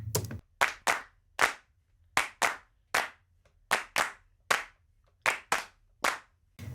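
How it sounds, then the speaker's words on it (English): Sharp, close hand claps in quick pairs, with brief silences between each pair, repeating steadily in a crisp rhythm. "Here's what the claps sound like on their own."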